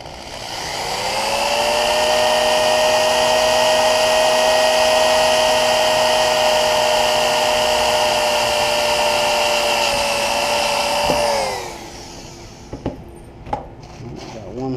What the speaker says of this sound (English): I'm going to drill right through.